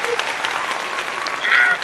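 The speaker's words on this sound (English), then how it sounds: "y'all give the Nicole Johnson some hand claps and a big old welcome." A podcast audience bursts into steady, close applause to welcome a guest, a dense wash of hand claps swelling louder near the end with some voices mixed in.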